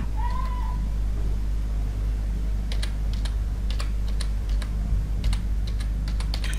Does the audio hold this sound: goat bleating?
no